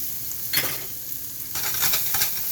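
Vegetables and tomatoes sizzle in a pan for a veggie omelet, with a steady frying hiss broken by bursts of louder crackling as the food is stirred.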